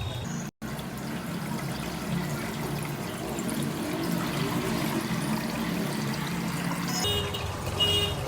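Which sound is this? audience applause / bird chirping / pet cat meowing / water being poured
water being poured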